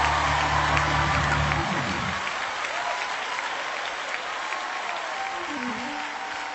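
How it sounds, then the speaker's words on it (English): Audience applause at a leadership talk, a broad crowd clapping that holds steady and then slowly fades, with a sustained low tone underneath at the start. "Come on, clap your hands."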